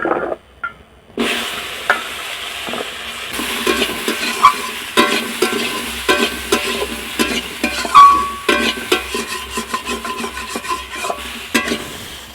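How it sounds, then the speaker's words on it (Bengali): Potatoes and pointed gourd tossed into hot oil in a wok sizzle loudly, with repeated scraping stirs and occasional clatters as the vegetables are moved around. "এখন আমি আনাজগুলো কড়াতে উঠিয়ে দিচ্ছি"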